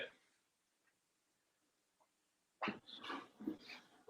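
A dog whines and makes a string of yelping, talkative vocal sounds close by after a quiet stretch with a few faint noises.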